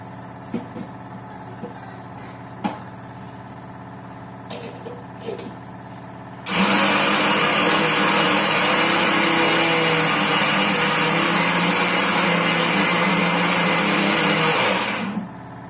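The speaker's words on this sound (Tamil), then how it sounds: "இன்னும் கொஞ்சம் அரைச்சிட்டு வந்துடலாம்" Quiet room with a few faint clicks, then an electric grinder starts up and runs loud and steady for about eight seconds, grinding spice powder, before cutting off.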